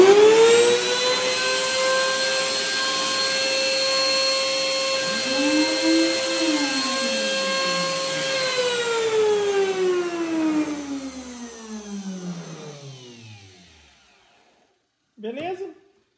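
A Makita 3709 trim router's high-pitched motor whines steadily at full speed for several seconds, then spins down smoothly to silence, followed by a brief faint noise.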